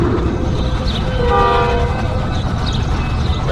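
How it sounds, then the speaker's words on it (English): A Metra commuter train passes close by at Stone Avenue Station in LaGrange, Illinois, a loud continuous roar of rail cars rolling through with a brief tonal horn-like ring in the middle. "This is our outbound Metra. And down that way we have an inbound Metra."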